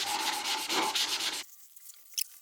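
Rapid back-and-forth hand sanding of a door with sandpaper during apartment renovation, close and rhythmic, light pressure, then it stops abruptly, leaving near silence with a faint tap.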